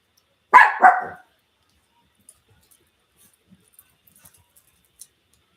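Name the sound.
dog barking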